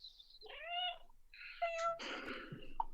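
A person imitates a cat's meow with several rising and falling mewing calls, followed by a short breathy sound at the end, heard close and alone in a quiet room.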